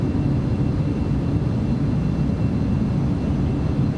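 A BAe 146-200 airliner's engines in Microsoft Flight Simulator 2020 give a steady, broadband rumbling drone during approach with gear and flaps down, constant and unbroken with no voices.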